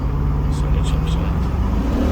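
A 2004 Chevrolet Silverado pickup accelerates steadily, its engine note rising through the gears under a constant road and cabin roar, recorded from inside the truck.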